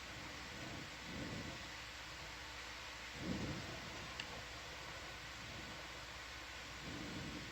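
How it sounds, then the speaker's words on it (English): Steady rain hiss with soft low rumbles rising and falling, a continuous wet wash of noise at a moderate level with no voices. "Oh, that's rain."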